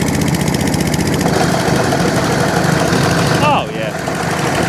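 A lawn mower engine runs loud and steady close by, a continuous throbbing drone that drops in level near the end as the throttle changes.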